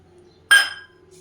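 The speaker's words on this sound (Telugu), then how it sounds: "ఈ ఆయిల్లో ఇప్పుడు పోపు దినుసులు వేస్తున్నాను ఇదిగోండి శనగపప్పు మినప్పప్పు" Chana dal and urad dal hit hot oil for tempering, producing one sudden bright crackling burst that fades within half a second, then near quiet.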